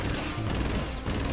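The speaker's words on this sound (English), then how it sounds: "I'll be shooting that wall and" Gun fire against a wall in the video game Infinite Warfare, a dense, continuous crackling stream of shots filling the brief moment with barely any gaps.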